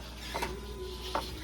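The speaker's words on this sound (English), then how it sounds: "Boom, it locked in that quick." An automatic locking hub on a truck engages under vacuum, giving two faint, quick mechanical clicks about a second apart over a steady low hum of workshop background noise.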